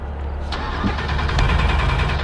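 A Lamborghini that has run out of gas cranks and fails to start. The engine turns over with a rough, pulsing churn close by, grows a little louder partway through, and never catches.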